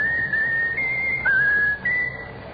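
A trained animal whistles a tune on command: a clear, loud, sustained whistle close by that steps between a few held pitches in a simple melody.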